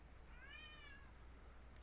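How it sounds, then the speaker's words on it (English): A domestic cat gives one short, rising-and-falling meow, faint and somewhat distant against a steady low room hum. "I wish my cat would shut up"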